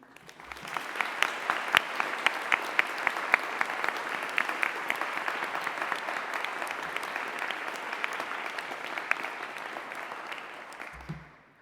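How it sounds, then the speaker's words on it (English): An audience at a graduation ceremony applauds, with steady sustained clapping from many hands in a large hall that builds quickly and holds for about ten seconds before stopping. "ask every single person here in the ceremony to put their hands together to congratulate you"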